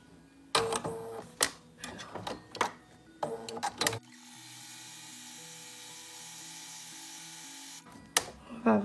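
A sewing machine runs steadily for about four seconds stitching scalloped edges, framed by sharp clicks and knocks of handling before and after.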